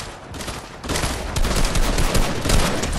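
Rapid video-game gunfire, a loud sustained burst of overlapping shots that swells after a brief lead-in and keeps firing steadily to the end.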